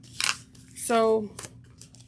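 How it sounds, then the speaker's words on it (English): Sharp scissors snip through fabric while sewing a crossbody bag, giving a few quick close cuts and a short ringing blade scrape, with a brief spoken word in between. "a pair of sharp scissors make the hugest difference"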